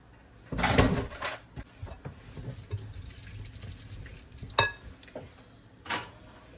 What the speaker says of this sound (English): I'm going to drain my pasta and get it added in there.